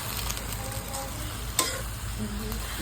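Saluyot and chili leaves sautéing in a pan give a steady low sizzle with soft stirring scrapes and one brief sharp clink partway through, with no talking.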